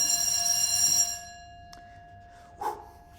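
A doorbell rings with a sustained, buzzy electric tone through the opening second, then cuts off, leaving a quiet room with a brief click and a short faint thump near the end.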